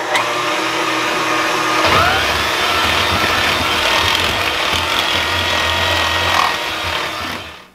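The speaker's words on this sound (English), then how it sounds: "I'm going to go ahead and start my big mixer," A big stand mixer whips meringue for a chocolate cream pie, a steady loud mechanical whir and rattle that runs nearly unbroken and fades off at the end.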